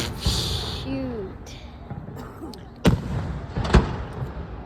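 Fireworks bang in sharp, loud reports at a public display, with crowd chatter and excited voices throughout and a whistling rise early on.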